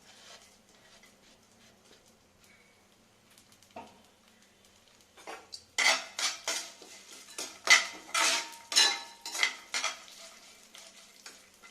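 Garlic and ginger fry in a pan for a mutton salna. After a quiet start, a spoon scrapes and clatters against the metal pan in a rapid series of loud, close strokes over a soft sizzle.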